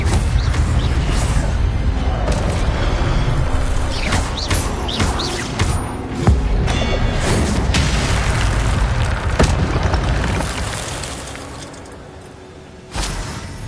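Spell explosions from combat in the video game Hogwarts Legacy: a sustained barrage of booming blasts and sharp cracks over roughly fourteen seconds, loud and dense, easing near the end before a final thump.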